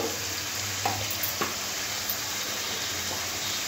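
Ginger-garlic paste and spices fry in a pan for a prawn dish, a close, steady sizzle broken by a few short scraping stirs.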